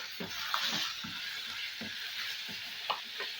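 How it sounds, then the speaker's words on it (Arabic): Chicken fries in a pan under a steady hiss of sizzling oil, while a utensil scrapes and turns the pieces in a loose, irregular rhythm of soft knocks. "هفضل اقلب فيها بقى لحد ما الفراخ لونها يغير"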